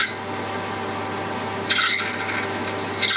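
A cheap step drill bit bores into metal with a steady droning whir, and a sharper grinding bite comes through in short bursts as the cutting edge catches, close up during a DIY jet engine build.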